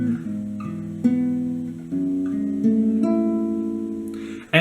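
An acoustic-sounding guitar plays the second half of a song's intro, picking a short melodic phrase of sustained notes that step through several pitches, close and clear, with no talking.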